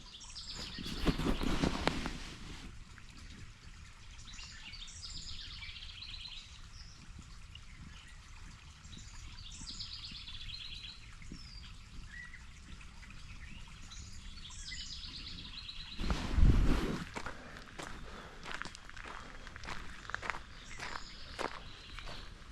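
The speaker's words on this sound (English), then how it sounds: "Some of these birds I haven't even heard before." Several birds call and sing in a Kettle Moraine State Forest woodland near a small creek, with repeated chirps across the clip, framed by louder footsteps on the trail at the start and again near the end.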